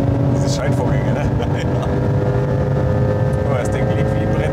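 Porsche Turbo engine at high speed, a loud continuous roar holding a fairly steady pitch with a slight rise near the end, heard from inside the cabin with faint voices underneath.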